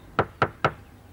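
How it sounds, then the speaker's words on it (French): A bent finger raps on a door three times in an even, quick rhythm. The knocks are close, crisp and sharp, each one separate, with near silence between and around them. "on frappe à la porte"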